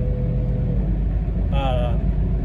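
A Mercedes W126 with a four-speed gearbox drives up a steep climb, its engine giving a steady low rumble throughout, with a brief higher whine near the end.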